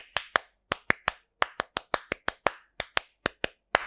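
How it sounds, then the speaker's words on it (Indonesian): Scout-style rhythmic hand clapping (tepuk pramuka): about eighteen sharp, close claps in a quick patterned rhythm with short pauses between groups, loud and alone with no talking. "Nah, itu tepuk pramuka gitu."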